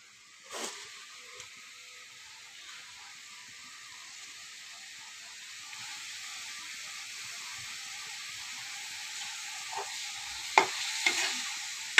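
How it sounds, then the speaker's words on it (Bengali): Onion and chili fry in a pan while pangas fish bhorta is being made, a soft continuous sizzle with a few sharp clinks of stirring, growing slightly louder midway. "পেঁয়াজ মরিচ ভেজে নিচ্ছি, দেখেন।"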